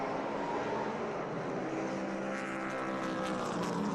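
Vintage race cars of SVRA Group 10 come down the front straight at Laguna Seca to start the race, a dense, continuous roar of several engines at steady high volume, rising a little as they pass.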